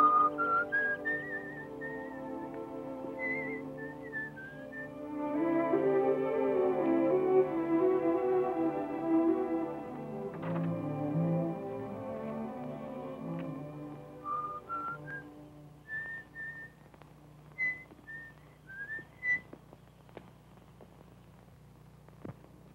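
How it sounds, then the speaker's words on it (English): A person whistles a light, meandering little tune in short melodic phrases with pauses, clear and fairly close, with a soft orchestral musical backing swelling beneath it in a classic film musical setting. "you wait here and whistle yourself a little tune till I come back"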